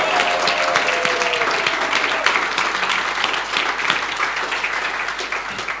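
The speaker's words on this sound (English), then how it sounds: "a round of applause to welcome them to the stage." A conference audience claps continuously to welcome speakers to the stage, a dense, lively patter of many hands that stays loud and steady from start to finish.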